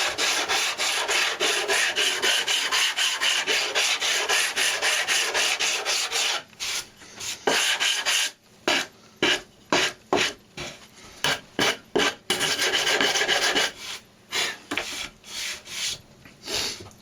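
Repaired wood veneer has its corners sanded off by hand: a loud, close rasping that runs continuously at first, then breaks into quick, rhythmic back-and-forth strokes with short pauses between them.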